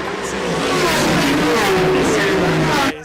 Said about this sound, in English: Thousands of brake horsepower about to be unleashed. V8s, V10s, and a few V6s and straight 6s as well on the circuit.